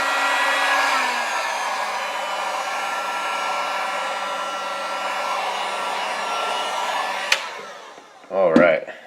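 Heat gun blowing steadily on vinyl wrap over a laptop, a continuous close airy whir with a faint hum that cuts off near the end, followed by a brief clatter as it is set down.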